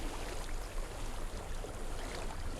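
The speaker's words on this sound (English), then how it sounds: "I hear water." Flowing water in the video game Hellblade: Senua's Sacrifice, a steady, soft rush of a stream with no talk over it, even in level throughout.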